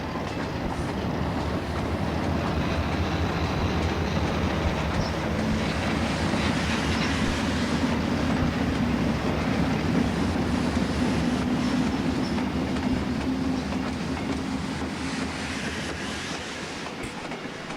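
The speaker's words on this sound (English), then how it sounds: "An eastbound MU train passes an Oyster Bay job powered by an RS3." An eastbound Long Island MU passenger train rolls past an Oyster Bay freight job powered by an ALCo RS3 locomotive, a loud continuous rumble with wheel clatter and a faint squeal held steady throughout.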